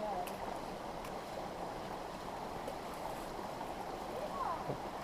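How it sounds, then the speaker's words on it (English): Hikers wade across a river in the Rich Hole Wilderness of Virginia's George Washington National Forest. A steady rush of flowing water fills the scene throughout, with faint splashing from feet moving through the current. "River crossing number 1."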